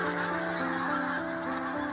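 Flock of migrating geese from Greenland honking over the barley fields and wetlands of the Montrose Basin in Scotland, many overlapping calls forming a continuous clamour at moderate distance.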